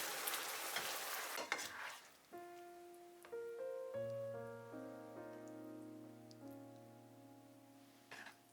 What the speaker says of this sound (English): Add 1 teaspoon of sesame oil. Briefly stir.